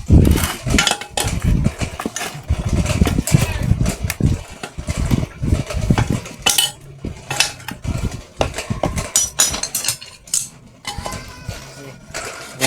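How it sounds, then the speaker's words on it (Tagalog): Metallic clanks, scrapes and clicks of a compressor's copper tube being cut, irregular and close up, with a low engine-like hum underneath. "putulin po natin yung copper tube"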